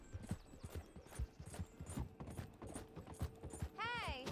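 A horse being ridden in Red Dead Redemption 2 Online trots with steady, close clip-clop hoofbeats throughout, and a brief wavering tonal cry rises near the end.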